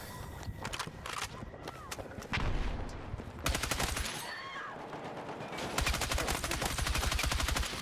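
Rapid automatic gunfire in the shooter Battlefield 6, with dense, repeated bursts and sustained volleys among battle noise, with footsteps and voices now and then.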